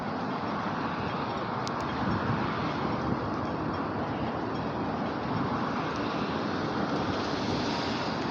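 Constant wind noise roars outdoors, a dense steady rush with faint rumbling underneath and no speech.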